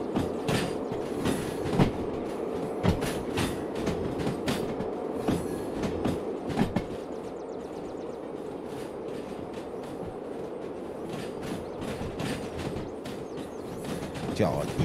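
Freight train rolling along the track in the Derail Valley railway simulator, with a steady rumbling drone, recurring clicks and clanks of wheels over rail joints, and a brief squeal near the end.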